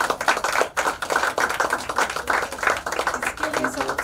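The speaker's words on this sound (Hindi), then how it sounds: "तालियां तालियां" A crowd claps steadily in dense, continuous applause, with voices mixed in beneath the rhythmic patter of hands.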